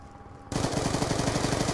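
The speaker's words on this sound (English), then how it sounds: "Once I get to a fully automatic weapon in gun game, I'll just keep shooting." Sustained automatic gunfire from a fully automatic weapon in Call of Duty Black Ops 2's gun game mode, kicking in abruptly after a short quiet lead-in and continuing as a loud, rapid, steady burst of shots with no talking.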